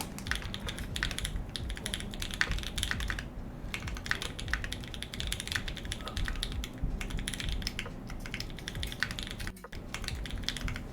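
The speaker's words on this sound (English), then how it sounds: "Keta's keyboard was really loud" Loud computer keyboard typing on a custom keyboard, rapid continuous clacking keystrokes in an uneven rhythm with brief pauses, close and prominent with no talk.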